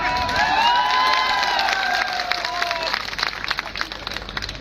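A crowd at a political gathering breaks into applause and cheering, with loud whistles and shouts at first that settle into a steady wash of clapping.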